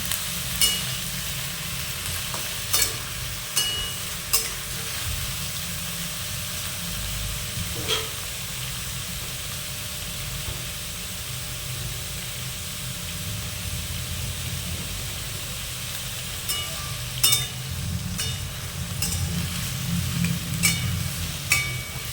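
Pumpkin, potato and eggplant sizzle steadily in hot oil, close and continuous, with occasional scraping as the pieces are stirred; no voices.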